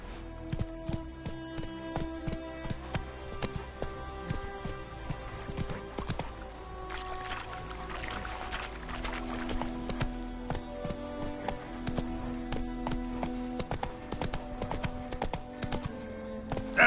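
Roach the horse gallops in The Witcher 3, with steady rhythmic hoofbeats that carry on for the whole stretch and sit over a music bed, plus a few snorts and whinnies.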